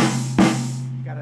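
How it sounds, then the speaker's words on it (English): A single sharp hit from a Roland TM-2 snare drum trigger rings out with a rattly, noisy burst over a steady low electrical hum, close and brief. "Right now, I got the snare trigger here."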